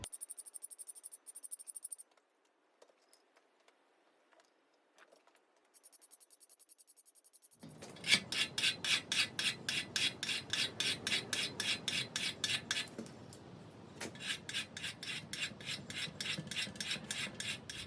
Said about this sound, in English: Okay, start with the bastard cut. Start on the sides, get them nice and parallel.